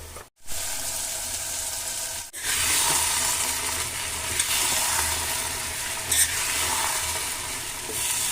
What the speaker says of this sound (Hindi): मिक्स कर रही हूँ राजमा।